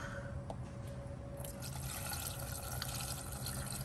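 Seafoam engine treatment poured into a car engine's oil filler opening, a soft steady trickle of liquid with faint drips, heard close and quiet with no talking.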